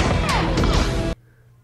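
Bullets strike bulletproof glass during a movie scene, a loud dense burst of cracking impacts and ringing glass that cuts off abruptly into near silence.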